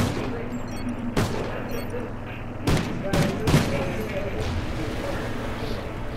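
Gunfire in the Call of Duty Ghosts video game: a few sharp, loud shots spaced a couple of seconds apart over a steady background drone.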